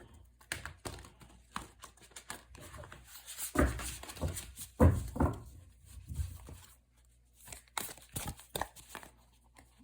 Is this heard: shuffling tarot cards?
yes